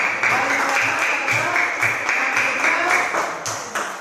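Classroom applause from students during a religious education teaching practice session, a steady burst of many hands clapping close by for about four seconds, with faint voices mixed in.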